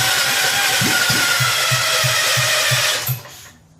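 A rebuilt Kohler K241 engine on a John Deere 210 lawn tractor cranking over in a steady pulsing rhythm under loud broadband noise, then cutting off abruptly just after three seconds.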